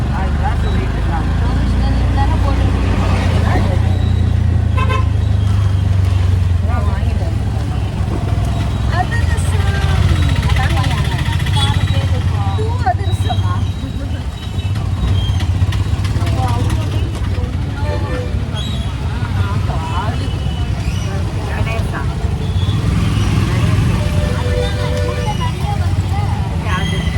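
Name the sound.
heavy road traffic with car horns in Koyambedu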